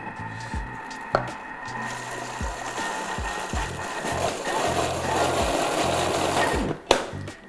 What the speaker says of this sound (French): Et là on vient mixer, pas à fond quand même parce que ça peut trancher.